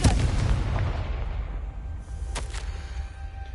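Loud, booming magical blast from the Confringo spell in Hogwarts Legacy, a heavy rumbling explosion that decays, followed by a couple of sharp crackling bursts.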